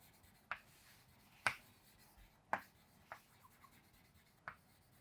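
Pen strokes scratching across paper while a basic definition is written for a class 10 physics lesson on light reflection, several brief sharp scrapes spaced about a second apart, close and quiet with no voice.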